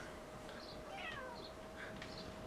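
A cat gives a few faint, high meows from a short distance over a steady background hiss and low hum, with no voices.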